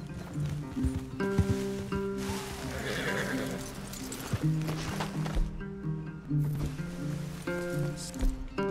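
Horses neigh and whinny loudly in the Red Dead Redemption 2 video game, several drawn-out calls over shuffling hooves and a soft rain-like background.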